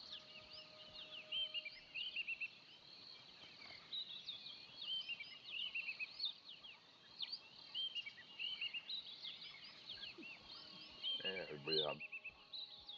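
Small birds chirp and trill almost continuously at moderate distance in a quiet outdoor setting, with repeated high tweets layered across the whole stretch and no talk.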